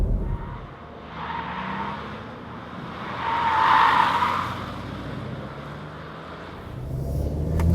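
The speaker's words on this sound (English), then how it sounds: "Tires are pushing now, a little bit squeaking." A VW T-model van cornering fast on Continental tires during a safety-training test drive, its tires squealing in a sustained rising and falling whine over the engine hum, loudest in the middle.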